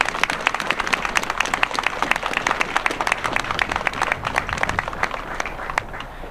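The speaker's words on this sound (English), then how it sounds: "let's give him a round of applause." An outdoor audience gives a round of applause for a senator at a downtown railyard rail-breaking ceremony, continuous clapping from many hands for about six seconds.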